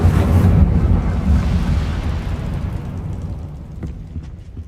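A whooshing burst of the Incendio fire spell in Hogwarts Legacy opens loud and broad, then a rumbling roar slowly fades over several seconds, with no talking.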